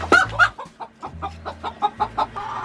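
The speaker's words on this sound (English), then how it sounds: "There's a chicken in there." A chicken clucking in a coop, a close run of about a dozen short rhythmic clucks at a steady pace, loud and clear with no talk.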